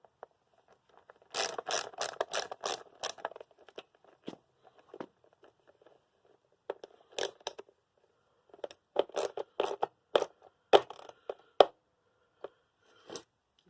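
A part being tightened back up on a hard-to-start small engine: sharp clicking and ratcheting bursts, close and fairly quiet, in irregular clusters separated by silent gaps.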